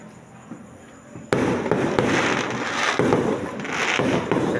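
Fireworks burst outdoors after a quiet start: a sharp bang, then a continuous crackling barrage of explosions that stays loud, with faint voices underneath.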